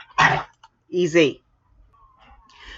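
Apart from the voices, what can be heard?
dogs barking in the background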